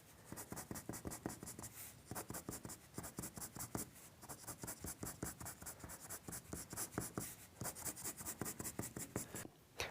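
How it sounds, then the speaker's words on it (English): Close, crisp cross hatching with a pencil on paper: a dense run of short, evenly repeated strokes, scratchy and rhythmic, with a brief pause near the start. No voices. "I can do a bit of cross hatching just into this area here."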